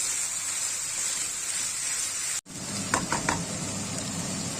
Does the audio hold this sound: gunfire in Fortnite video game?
no